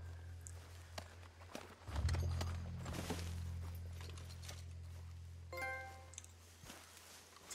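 Horse hooves clip-clop at a walking pace in a Red Dead Redemption 2 style western game set in Saint Denis, a steady rhythm of soft footfalls over a low rumbling bed, with a brief metallic jingle near the end.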